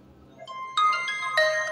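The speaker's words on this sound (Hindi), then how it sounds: "ये देखिए डिफरेंट डिफरेंट टाइप की जो आपको यहाँ पर रिंगटोन दी जा रही है" A Realme 9 5G phone previews a ringtone: a short melodic electronic tune of bright tones that starts softly, then steps up in loudness, played alone.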